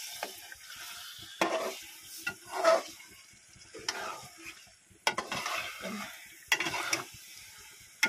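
Vegetables frying in a pan are stirred with a utensil, giving intermittent scraping and clinking strokes over a soft, steady sizzle, close and fairly quiet.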